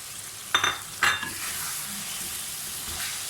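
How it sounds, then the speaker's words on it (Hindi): Chicken frying and being stirred in a pan for spicy achari chicken curry: a constant close sizzle broken by two sharp scraping stirs near the start and a softer one toward the end, with no talking. "जब तक चिकन की भुनाई होगी अच्छी तरह से और भी"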